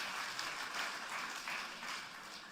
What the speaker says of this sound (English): Let's give a round of applause to Madam President.